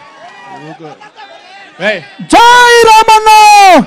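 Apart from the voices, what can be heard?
crowd clapping and cheering at a public meeting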